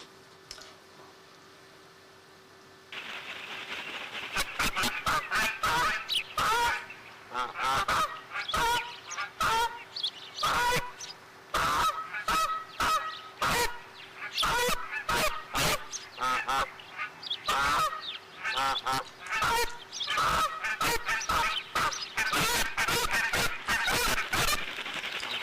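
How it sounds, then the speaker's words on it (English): Geese honk loudly and repeatedly in dense, overlapping bursts while contesting an osprey nest, the calls close and persistent, with a steady faint hum beneath and a quiet stretch before the honking starts. "the geese trying to take over the nest"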